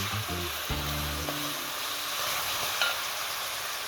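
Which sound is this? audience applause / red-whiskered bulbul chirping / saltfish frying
saltfish frying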